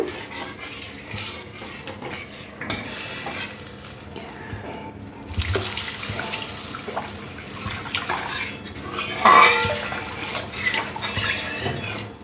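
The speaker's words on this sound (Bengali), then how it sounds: "এখানে আমি আরেকটু জল দিয়ে দেব।" Water poured from a container into a pan of Bengali pabda fish curry, a soft steady splashing and trickling close by that swells midway and again near the end, with no talk over it.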